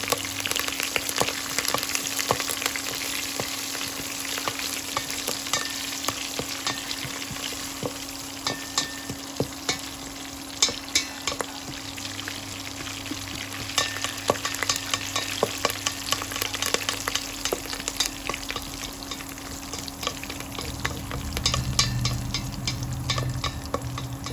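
Curry leaves fry in hot tempering oil for a sambar meal. A dense, continuous crackle and sizzle runs throughout with frequent sharp pops and an occasional stir, close and steady, with no talking.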